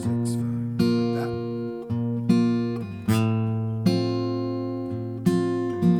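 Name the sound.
acoustic guitar simple picking pattern, Christmas song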